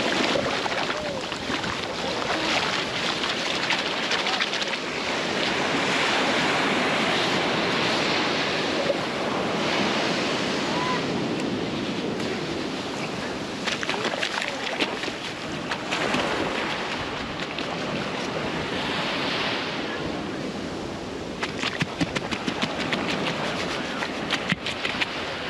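Ocean surf washes steadily onto a beach strewn with green gem stones, a loud, continuous roar of breaking waves and rushing water that swells and recedes over the whole stretch with no voices.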